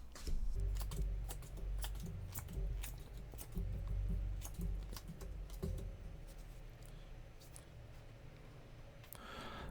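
Tarot cards being drawn and shuffled by hand, a steady run of crisp flicks, taps and soft slides close by, with no voices.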